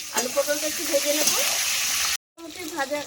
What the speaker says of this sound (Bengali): এবার আমি আলু পটল একসঙ্গে একটু ভেজে নেব ভালো করে।